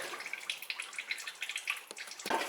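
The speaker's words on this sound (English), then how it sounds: "We're going to let this drip, and then we're going to move to replacing and filling." Rear differential fluid draining from a Honda Ridgeline, dripping in soft, irregular close drops with a faint wet patter and no talking.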